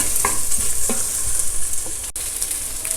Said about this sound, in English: finally you can just add another tablespoon of oil and cook it for a couple of minutes more. Just keep stirring it from time to time.